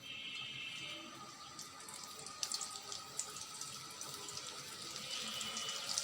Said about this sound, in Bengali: এখন এগুলোকে আমি ভেজে নেব।